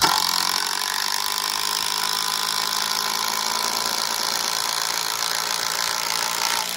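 A Dewalt impact driver drives a lag bolt with a continuous, loud, buzzing rattle of rapid impacts, close and sustained throughout, with no talking.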